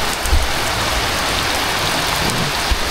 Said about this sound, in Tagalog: Yan ang ulan guys. Malakas.